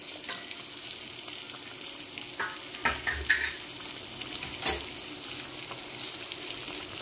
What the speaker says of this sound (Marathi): तर मच्छी बघा आपली आता इथे फ्राय होईल.